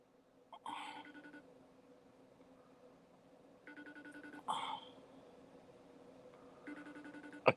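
A telephone rings in repeated bursts with no one picking up, each trill recurring after a long pause over a low steady background hum.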